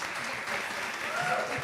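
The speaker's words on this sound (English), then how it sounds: "Let's give them another round of applause." Audience applause after a talk, a steady wash of many hands clapping at moderate volume for the whole short stretch, with no other sound standing out.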